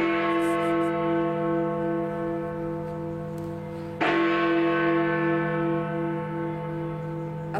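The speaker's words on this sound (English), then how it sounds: "Big Ben ringing in for Christmas and will continue doing so till New Year." Big Ben's bells ringing out for Christmas, a loud sustained bell tone with rich lingering overtones and a fresh strike about halfway through, heard alone without voices.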